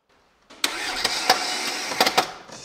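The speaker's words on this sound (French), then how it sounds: "Putain, fait chier ce démarreur." A Mercedes W201 starter motor cranks the engine with a few sharp bursts of grinding effort over roughly two seconds. The engine does not catch, and the sound is close and loud.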